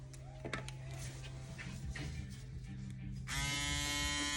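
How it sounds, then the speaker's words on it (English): An Andis reSURGE electric shaver hums with a low steady buzz, joined by faint clicks and handling noise, then rises into a louder, brighter whirring drone for the final second. "here's the first test of the Andis reSURGE shaver"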